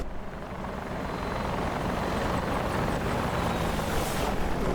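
An Apache attack helicopter in a video game passes low overhead, its rotor and engine roar loud and continuous, swelling slightly toward the end.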